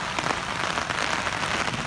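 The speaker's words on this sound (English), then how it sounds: "And this is how it spewed out during the downpour." Steady rushing water pours and splashes continuously from a dam spillway pipe during a downpour, a dense hiss like heavy rain or outflow, with no voices.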